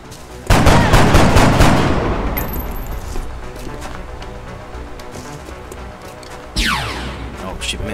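Gunfire from the XCOM: Enemy Within video game: a loud burst of shots at the start that rings out and fades, then a second burst near the end, with voices talking over it.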